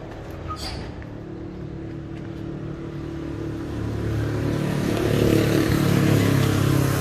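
A Kawama 110 small farm vehicle engine idles with a steady low chugging drone that grows somewhat louder toward the end, heard up close.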